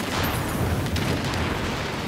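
Gunfire and explosions from Tom Clancy's The Division game crash together in a dense, continuous wall of rumbling blasts and crackle, loud throughout.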